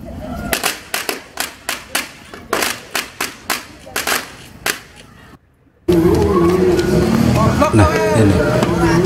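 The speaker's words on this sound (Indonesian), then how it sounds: "dengan anak-anak yang bermain petasan" Firecrackers set off by children during Lebaran celebrations in a village pop in a quick series of about a dozen sharp bangs, followed after a brief gap by louder crowd and voice noise.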